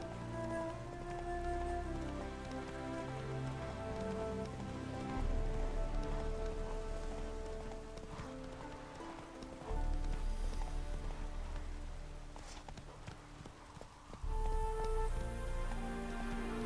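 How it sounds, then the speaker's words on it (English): Rain falling in the video game The Witcher 3: Wild Hunt, a steady patter of drops on surfaces heard over soft game music, continuous and even in loudness, with no voices. "Hope it rains like this come sowing time."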